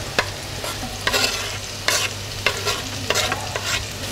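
Mini pizza topping filling is stir-fried in a pan, with repeated scraping spatula strokes over a steady sizzle, close and fairly loud.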